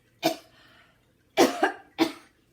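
Three sharp, close coughs with no other sound: a single cough, a pause of about a second, then a quick doubled cough and one more.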